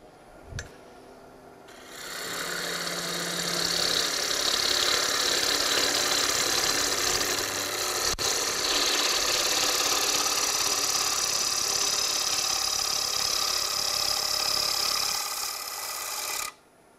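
Bevelled cutting tool shaving a smooth finishing cut on wood, a steady close rasping hiss that starts abruptly, holds evenly for about fourteen seconds and then stops.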